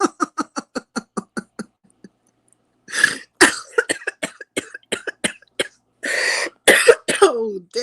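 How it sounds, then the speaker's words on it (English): A person coughs, opening with a quick run of short, evenly spaced hacks, then after a pause a harsher, louder cluster of coughs and throat rasps, close to the microphone. "I had to cough that up."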